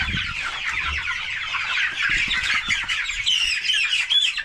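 Chickens squawking and clucking in a coop flooded by heavy rain, bedded with thick pine shavings, a busy overlapping chorus of agitated calls, close and continuous.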